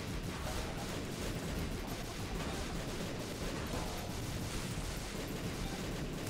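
Dense crackling explosions blast continuously through a round of The Binding of Isaac: Repentance, a loud rumbling burst-filled barrage with no pause and no voices.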